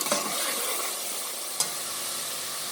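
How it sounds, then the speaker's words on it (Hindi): Cumin, red chili and turmeric masala fries and is stirred in a pan for aloo kofta gravy, giving a steady close sizzle with one sharp utensil scrape partway through. "साथ साथ मसाले को भूनते जाएंगे"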